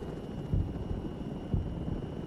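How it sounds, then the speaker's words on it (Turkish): Helicopter in the Medal of Honor video game, heard as a faint, steady low rotor drone with two dull thumps about a second apart. "Helikopter."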